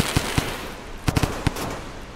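Smoke bombs going off in Rain World, a handful of sharp popping bursts, two close together at the start and a quick cluster of three to four later, over a soft hiss.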